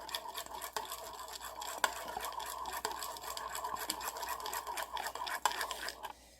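A spoon stirs coffee in a cup, making quick, continuous scraping and light clinking close up, quiet and unaccompanied by speech.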